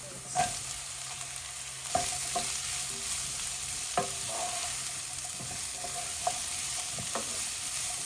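Onions fry in a pan for a curry leaf prawn dish, with a steady soft sizzle under occasional knocks and scrapes of a spoon stirring, close by and with no talk.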